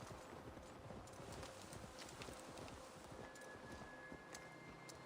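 Horse hooves clip-clop steadily in Assassin's Creed Valhalla as the mount plods slowly up a slight hill, a continuous close rhythm of hoofbeats over faint ambient rustle and wind.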